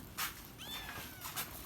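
A cat, apparently a stray found outside near a convenience store, gives a faint, brief mew between soft scuffing noises at close range.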